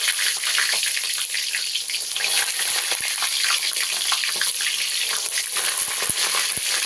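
Aubergine pieces drop into hot oil in a pan, giving a steady, close hiss of sizzling and spitting with a few sharp pops, with no talk over it.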